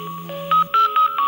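A telephone rings with repeated electronic tone bursts in a quick, regular pattern, loud and close, with no talking over it.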